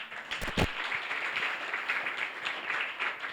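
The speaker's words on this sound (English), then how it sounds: "I'd just like to give the panel another round of applause." An audience applauds a panel at an environmental awareness luncheon, a steady wash of clapping with a few louder nearby claps early on, no talk over it.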